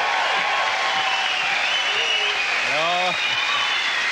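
A studio audience applauding to welcome a guest on a German comedy show, steady, dense clapping throughout with a voice speaking briefly over it.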